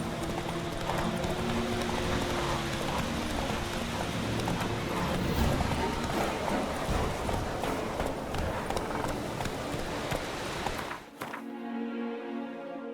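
Horse galloping in The Witcher 3: Wild Hunt, a continuous rapid clip-clop of hooves at close range for about eleven seconds, ending abruptly as the scene cuts to quieter tones.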